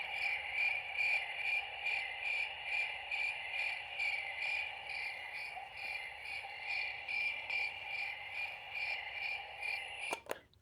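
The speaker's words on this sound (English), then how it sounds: "So you'll hear just the crickets." Steady, dense chorus of crickets chirping in a continuous pulsing trill, loud and close, with no talk, ending in a brief click near the end.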